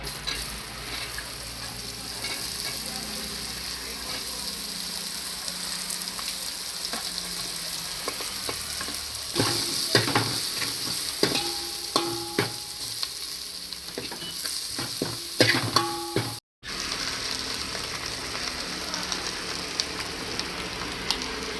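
Onion sizzles and fries steadily in hot oil, with occasional stirring clinks and scrapes; no one speaks.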